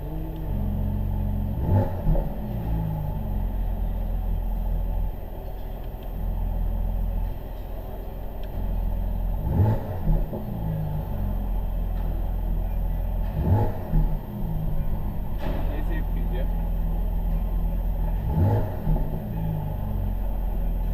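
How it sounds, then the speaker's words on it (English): A 2019 Mercedes C43 AMG sits at idle with a low engine drone, then has its throttle blipped several times in spaced bursts, each rev rising sharply and falling back through the exhaust, heard from inside the car. "He starts to give the engine some revs playing with the exhaust."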